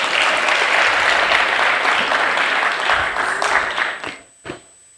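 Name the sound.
audience applause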